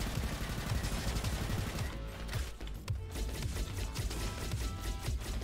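Rapid automatic turret gunfire in the sci-fi shooter Roboquest rattles on continuously at close range, dense overlapping shots with small impacts and clanks, holding loud from start to finish.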